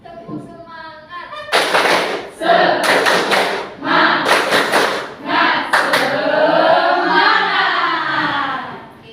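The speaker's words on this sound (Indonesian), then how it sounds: "Tepuk semangat." A class performs a rhythmic spirit clap (tepuk semangat), with sharp clustered claps in a patterned rhythm mixed with loud chanted voices.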